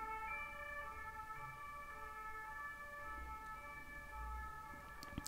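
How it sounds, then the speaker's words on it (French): An ambulance siren wails steadily outside on an early Sunday morning, a sustained tonal howl heard at moderate distance through a quiet room, with no one speaking. "Excusez-moi pour cette sirène"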